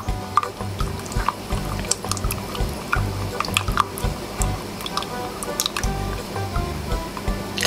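Thick, still-warm homemade hand cream made with coconut oil is stirred steadily in a bowl, giving continuous wet squishing and dripping sounds close by, with no talk.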